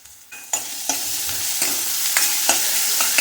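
Masala with turmeric and red chili powder sautéed in a pan for a pigeon pea dish, sizzling steadily while a spatula scrapes and stirs in repeated strokes, close and clear with no talking.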